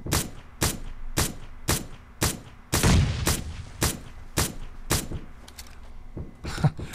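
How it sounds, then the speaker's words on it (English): Rapid single gunshots from a half-grip weapon in PUBG Mobile, about a dozen sharp loud cracks in a steady, fairly quick cadence, with one heavier, denser burst near the middle. "I tried to shoot it a little faster that time"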